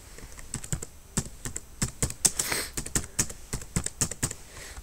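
Rapid keystrokes on a computer keyboard, irregular clicks and clatters in quick bursts, close and fairly quiet, with no talking.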